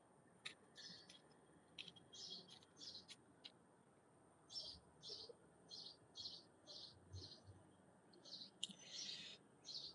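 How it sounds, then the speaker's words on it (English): A mockingbird sings in a garden, repeating short bright phrases in a steady rhythm, each burst separated by brief pauses, fairly close and alone against a faint background hiss. "the main one that we hear a lot is the mockingbird. It makes a million different types of sounds."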